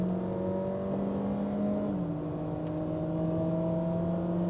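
A 150,000 km Honda Fit with a dual-clutch transmission accelerates flat out along the Fuji Speedway main straight, heard from inside as a steady engine drone whose pitch climbs, dips at a gear change, then keeps rising.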